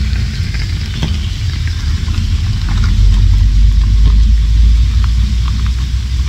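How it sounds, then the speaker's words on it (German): A car approaches and passes on a road through the Lauterbrunnen valley in Switzerland, a loud, close engine and tyre rumble that swells toward the middle and end of the stretch, with no talking. "Kommt ein Auto."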